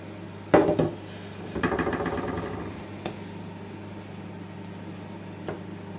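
A baking dish for a traditional Albanian nettle pie is handled close by: a sharp clatter, then a longer rattling scrape, followed by two faint knocks in a quiet kitchen.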